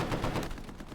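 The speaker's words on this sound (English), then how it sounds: "Sarkin under pistol fire." Rapid gunfire crackles through a Hell Let Loose match on the Tobruk map, a dense, loud burst of shots filling the whole second with little pause.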